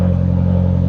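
A BMW engine idles during a cold start with a steady, close, loud mechanical drone and a faint rhythmic pulsing, heard alone and without variation.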